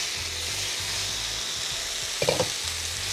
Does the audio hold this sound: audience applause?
no